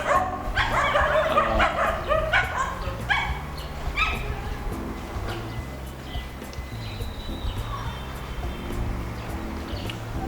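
Several dogs bark and yip nearby, loud at first then settling into scattered barks and whimpers over a low background hum.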